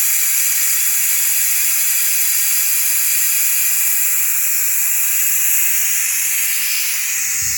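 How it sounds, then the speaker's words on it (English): A pressure cooker vents steam in a loud, continuous broadband hiss that holds steady throughout with no voices, released partway through cooking a rabbit cassoulet. "everybody knows who has used a pressure cooker, you must release the steam"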